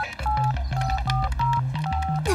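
A rapid sequence of mobile phone keypad tones, about nine short dual-tone beeps of shifting pitch pressed in quick succession, clear and close with no speech.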